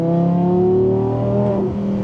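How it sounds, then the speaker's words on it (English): A 2023 Audi R8 GT rises in pitch under hard acceleration, a loud, close engine wail that drops sharply at a shift with a brief crackle from the exhaust. "Oh, there's the crackle."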